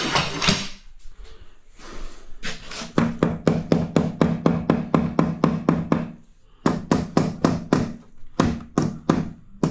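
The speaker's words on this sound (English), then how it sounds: "Where's the rubber hammer?" Rubber hammer tapping tile into place in a tiled niche, a long run of sharp, evenly spaced close knocks, a brief pause, then another quick series of taps.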